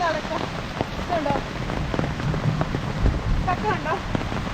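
Heavy rain pours onto a scenic village road in Kerala while someone walks through it: a dense, steady patter with sharper drops and scattered bird chirps over the hiss.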